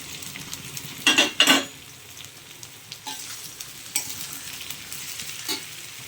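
Vegetables frying in a pan with tomato and slit green chilies, a soft sizzle under a few sharp metal spoon scrapes and clinks, close and without talk.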